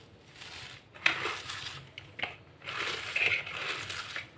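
Chopped cabbage and onion are squeezed and mixed by hand with salt for a rice-flour momo filling, giving close, wet crunching and squishing in uneven bursts.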